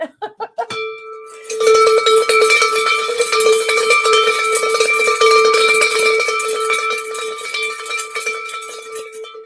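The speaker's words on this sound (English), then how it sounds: "we haven't rung the bell yet tonight, right?" A bright metallic bell rings in rapid repeated strikes, loud and close, after a few quick separate hits at the start.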